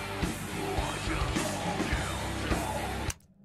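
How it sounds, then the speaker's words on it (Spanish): A harsh, distorted metal growl scream, loud and sustained for about three seconds before cutting off abruptly into near silence. "Vale, aquí tenemos un growl."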